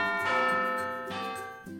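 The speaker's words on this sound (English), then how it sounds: "At the sound of the bell, all the tanks in the classroom start unpacking their lunch bags" A video game school bell in a classroom rings out with resonant metallic chimes, two clear strikes each ringing on and decaying, loud and close with no talking.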